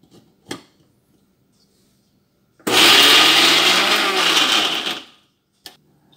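An electric mixer grinder grinds rice batter mixed with a small piece of butter for temple-style vada. It gives a loud, close whirring roar for about two and a half seconds, with quiet handling knocks before and after.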